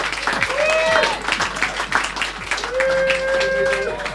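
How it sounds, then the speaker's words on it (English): An audience at a poetry reading applauding loudly, dense clapping throughout with a few cheers and whoops rising over it. "Can we give them a big hand of applause?"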